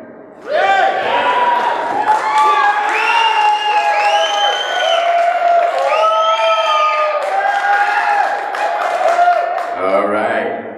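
A crowd at a 2015 Shark Tank event in San Francisco cheers loudly and continuously, a dense wall of shouting voices that holds steady for about ten seconds before dropping off near the end.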